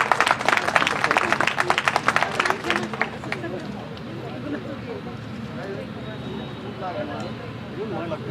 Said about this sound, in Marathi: आपण जोरदार टाळ्या स्वागत करूया मॅडमचं.